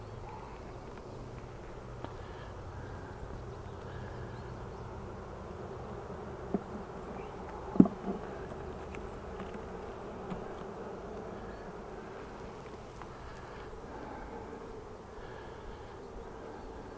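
Honey bees in a hive during queen rearing, a low steady droning hum throughout with an occasional faint knock, at close range, with no talk.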